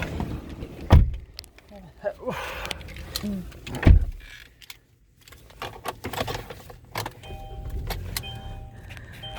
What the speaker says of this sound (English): Car starts up, does a pretty cool system check.